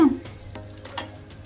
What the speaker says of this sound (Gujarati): અને આમ કરવાથી ઘીમાં સાતડવાથી પાન કડક થઈ જશે